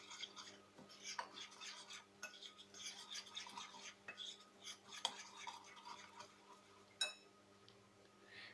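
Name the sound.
mixing potato mixture with chickpea flour for aloo tikka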